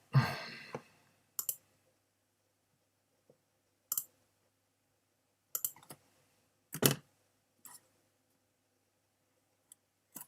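A computer keyboard gives sparse, separate clicks and short bursts of keystrokes, close and crisp against near silence, with long pauses between the taps.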